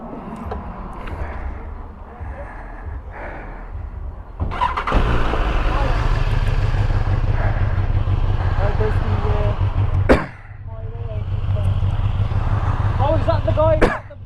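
Two BMW S1000RR superbikes firing up and revving, engines catching with loud rough bursts, then sustained revving with sharp throttle blips and a brief dip, while people talk nearby.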